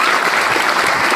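An audience claps steadily after a song at a program, dense close applause filling the whole short stretch with no pause.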